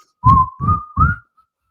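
Three short whistled notes in quick succession, clear and close, followed by silence.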